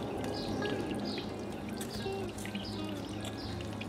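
Water poured onto a plant in a backyard garden, a steady continuous splashing trickle that runs close and fairly loud for the whole stretch, with no talking over it.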